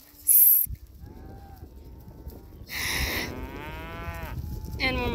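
Cattle being herded by working cow dogs low out loud moos, one near call followed by several longer bellowing moos that overlap across the field.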